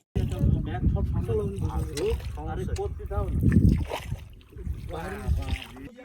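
Two boats gliding side by side along a canal in rural Bangladesh, with faint splashing and motion noise beneath near, continuous conversation among several people.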